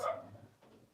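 One short dog bark rings out nearby at the start, then fades into quiet room noise with a faint later murmur.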